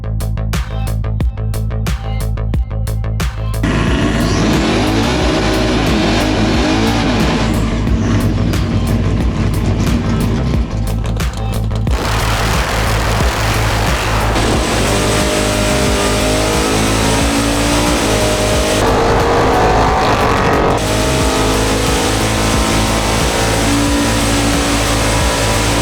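Race car engines in a racing video game roar and rev loudly and continuously, with rising and falling pitch as cars accelerate, shift and pass, and no talking over them.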